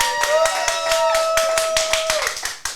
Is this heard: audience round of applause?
yes